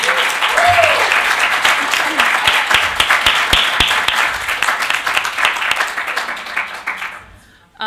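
A college summit audience gives a sustained round of loud, dense applause that continues steadily and then cuts off near the end.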